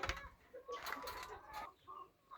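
Hens cluck on and off in short bursts at close range, with soft farmyard noise in between and no talking.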